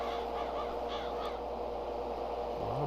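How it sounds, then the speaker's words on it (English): Birds in a farming video game honk and call over a steady ambient bed, with a few goose-like calls rising above the background throughout. "Birds out there today too."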